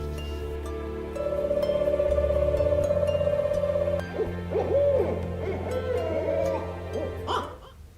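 A giant owl in a village in Giridih gives a long, steady hoot, then a series of shorter wavering calls, close and clear against a quiet background.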